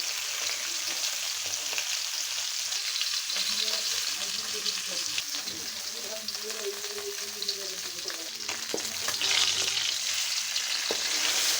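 Two chilies and fish fry in oil at home, a continuous fine sizzle with occasional clicks of stirring and a low voice talking faintly beneath it, the hiss swelling slightly toward the end.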